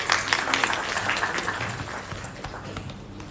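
Crowd applause at an International Youth Day celebration in Sierra Leone, a dense patter of many hands clapping that fades slightly toward the end.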